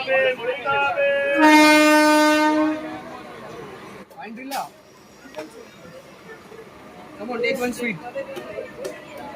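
Howrah–Digha EMU electric train pulling out of Mecheda station, a loud horn blast sounding early, then rolling rail noise with brief clatter, voices faintly audible around it.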